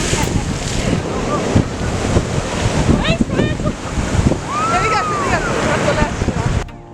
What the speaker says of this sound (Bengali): অশান্ত সমুদ্র কিভাবে পাহাড়ের পায়ে এসে আছড়ে পড়ছে